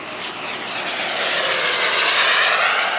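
A jet-powered model aircraft at a model jet event flies its approach, a loud continuous turbine roar and whoosh that swells steadily as it passes close by.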